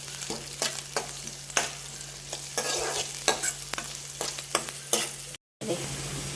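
Onion and chicken stirred in a hot pan for Mangalore-style kori (chicken curry), with steady sizzling under repeated sharp scrapes of a spoon against the pan, close and alone.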